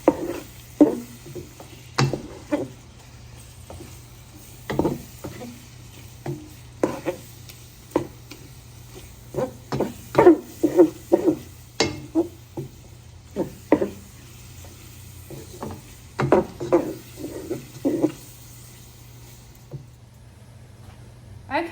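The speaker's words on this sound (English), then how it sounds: "now that we've got the beef and the Italian sausage cooking with the onions and the spices in it" Ground beef and Italian sausage fry with onions and spices in a pot, a soft sizzle beneath repeated scraping and knocking strokes of a spoon stirring, irregular and close.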